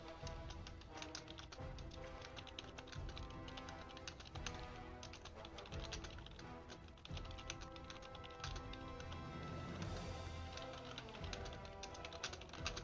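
Someone types on a computer keyboard while playing the strategy game Rise to War, producing a continuous run of quick, close key clicks at an uneven rhythm, fairly quiet and with no talking.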